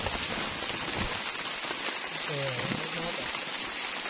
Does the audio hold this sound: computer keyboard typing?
no